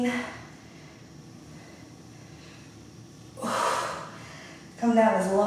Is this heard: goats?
no